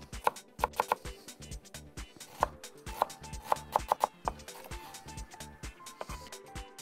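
A knife finely chopping a red onion on a cutting board, with quick bursts of close, crisp taps in uneven clusters.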